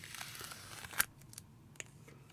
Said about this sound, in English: I'm going to get this tape off of here.